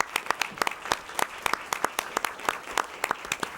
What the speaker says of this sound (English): So let's give them a round of applause.